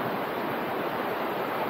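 A shallow river flowing beside a bridge under construction in Aguilar, Pangasinan, a steady broad rushing wash with wind noise, close and unbroken.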